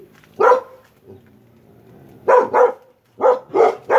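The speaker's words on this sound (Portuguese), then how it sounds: "pessoal na rua gritando e os cachorros ficam loucos" Dogs bark excitedly on a street: one bark, then a quick pair, then a rapid run of three, loud and close, with quiet gaps between.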